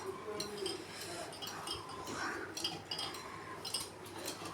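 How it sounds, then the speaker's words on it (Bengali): Ice cubes clink against a glass while a tangy drink is stirred for summer, a series of light bright taps under ongoing background speech and household noise. "আইস কিউবগুলো ভালো করে মিশে যাবে।"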